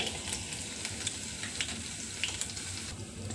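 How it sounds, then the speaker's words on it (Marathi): Asafoetida and sesame seeds sizzle in hot oil for a tempering, a continuous crackling fry with sharp little spits and pops scattered across it, close and moderately loud, with no voices. "यात मी थोडंसं हिंग घालून घेते"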